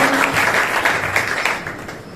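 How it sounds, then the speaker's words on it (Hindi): Brief applause from the audience at a business seminar in Dadri, a short burst of many hands clapping close by that fades slightly toward the end. "एक बार जोरदार तालियों से स्वागत करेंगे।"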